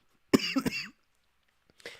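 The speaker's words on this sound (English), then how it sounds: "Excuse my coughing." A person coughs twice in quick, rough bursts close up, a short pause following before a faint throat sound at the end, with no speech.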